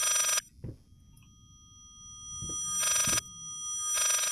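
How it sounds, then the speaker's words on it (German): An old-style telephone bell rings in the Layers of Fear horror video game, three bursts of loud rattling ring separated by quiet gaps with soft footsteps and creaks between them. "Boah, dieses Telefon, ne?"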